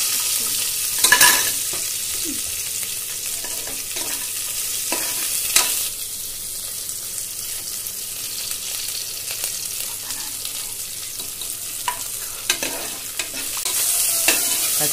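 Spices for tempering sizzle steadily in hot oil in a home kitchen while a chana-seed dish is cooked, with a continuous frying hiss, scattered sharp pops and occasional stirring clinks.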